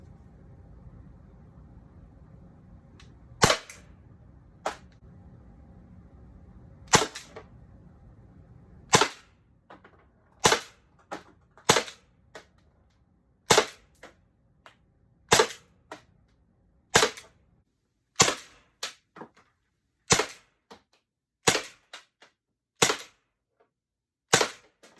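An Umarex T4E Glock 17 Gen 5 firing nylon balls: a long string of sharp, loud single pops, spaced a second or two apart at first, then coming faster and more evenly toward the end of the magazine, with nothing else heard.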